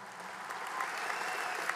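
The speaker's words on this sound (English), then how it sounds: "Let's have a round of applause for them." Applause from a large audience at a university commencement ceremony, a continuous wash of many hands clapping that swells slightly and holds steady, somewhat distant in a big hall.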